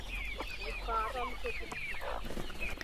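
Several native country hens clucking close by on a poultry farm in quick, overlapping bursts, with a low steady hum underneath.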